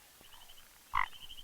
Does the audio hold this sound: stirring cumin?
no